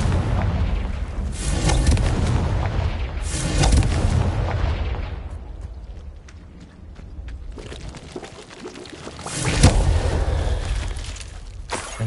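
Confringo blasting spell explosions in the video game Hogwarts Legacy: deep, loud booming blasts with rumbling tails, a couple of heavy bursts early, a quieter lull, then another strong boom near the end.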